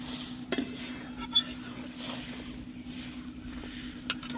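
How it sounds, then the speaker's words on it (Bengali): Egg and lentil fritters dropped into a simmering village-style curry broth, with a steady low bubbling and a few soft clinks and splashes as pieces go in, close and fairly quiet. "ডিম আর মুসুর ডালের বড়াগুলো সব দিয়ে দেবো।"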